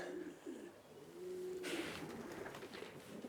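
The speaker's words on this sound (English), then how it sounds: "Come on, pigeons." Racing pigeons coo softly outdoors, a low repeated warbling call set against wind and background noise.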